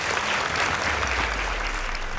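Brief round of applause from a school debate audience, dense steady clapping lasting only a couple of seconds.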